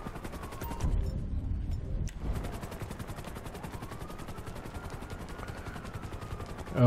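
Rapid rotor chopping of a helicopter in Grand Theft Auto V, steady and pulsing throughout, with bursts of gunfire and crunching impacts early on.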